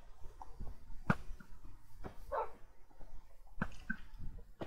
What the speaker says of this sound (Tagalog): Gago, galit yung aso sa skeleton.